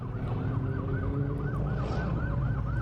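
Rising and falling police siren cycles repeatedly at a car meet, heard at a moderate distance above a continuous low engine rumble from surrounding cars, no voices present.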